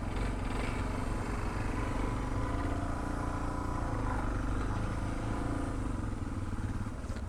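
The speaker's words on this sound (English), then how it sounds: "Gonna turn around and park our motorcycles." Motorcycles on a touring ride through a Kyrgyz village rumble steadily up close, a continuous engine drone with road noise and no pauses.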